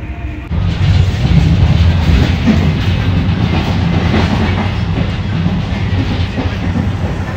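A train rolls along rails toward Roma Trastevere, heard from on board as a loud, steady rumble with rhythmic clickety-clack over the track joints, starting abruptly and continuing without talk.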